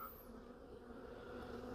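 Honey bees buzzing steadily around an open hive, a continuous faint drone with no voices.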